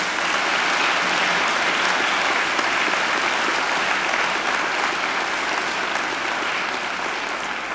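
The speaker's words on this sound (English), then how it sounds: "I think Angela deserves another great round of applause." Sustained, even applause from a large audience at a university graduation ceremony, dense clapping filling the hall without a break.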